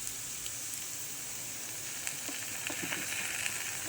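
Sauce hits a hot pan of chow mein, keeping up a steady close sizzle with scattered small pops and crackles and no voices over it.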